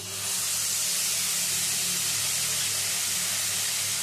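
Ground onion paste hits hot oil in a pan, giving a steady broad sizzling hiss that swells at the start and then holds even and strong, with no talking.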